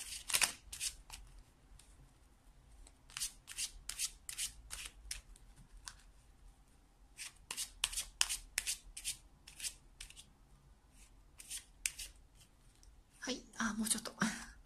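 Lenormand fortune-telling cards are shuffled in quick papery riffles, close and fairly quiet, with bursts repeating through the clip and a heavier flurry near the end, under a soft voice.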